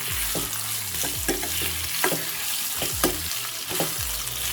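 Raw banana pieces for a crispy fry are stirred in a hot pan, with rhythmic scraping strokes about once a second over a continuous close sizzle and no voices.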